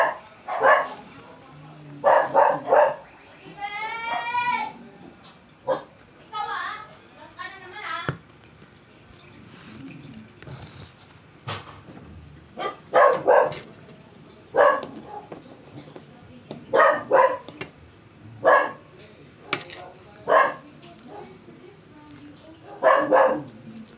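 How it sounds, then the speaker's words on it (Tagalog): Dogs bark in repeated bursts at moderate distance, some sharp yips among them, with quieter stretches and occasional talking in between. "At ang ingay ng mga aso."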